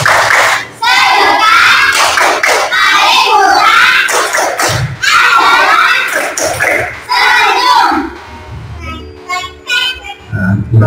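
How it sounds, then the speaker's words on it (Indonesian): A classroom of schoolchildren performs a rhythmic clap chant, loud group shouting and sharp claps in a steady pattern, with pauses and a teacher's voice between bursts. "Tepuk semangat."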